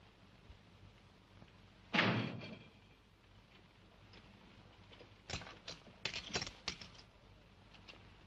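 A door shuts with one firm thud in a 1971 western film, followed by a few light, scattered knocks and footfall-like taps, all fairly quiet against a hushed room.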